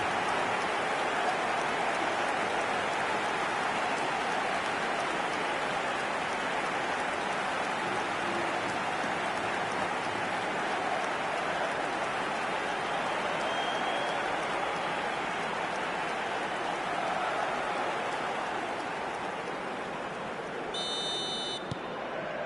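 A football stadium crowd in the eFootball video game gives a steady, roaring cheer, a dense wash of noise that holds for the whole stretch and fades slightly near the end, with no speech over it.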